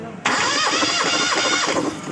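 A car engine is cranked by its starter during a compression test on the fourth cylinder, a steady loud churning whir that starts abruptly and runs continuously to the end, close by.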